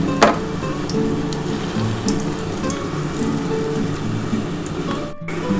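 Fish roe fritters frying in hot oil, a steady dense sizzle with occasional small pops and a brief clatter, continuous throughout without talk.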